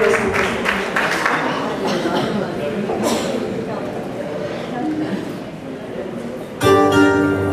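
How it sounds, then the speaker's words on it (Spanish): Brief applause from the audience at a charity gala in a hotel, diffuse and moderately loud under talking voices, before music starts at the end. "un cortísimo aplauso para ellos"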